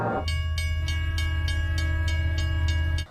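The Soekarno-Hatta airport train rumbles steadily with a deep low drone and a regular rhythm of wheel clicks, loud and continuous until it cuts off sharply at the end, with no voices.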